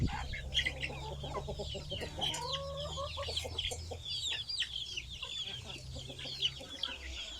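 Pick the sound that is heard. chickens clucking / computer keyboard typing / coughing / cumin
chickens clucking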